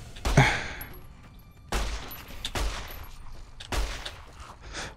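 Gunfire in Fallout: New Vegas, four loud booming shots spaced roughly a second apart, each with a sharp attack and short rumbling tail, heard close with no talk over them.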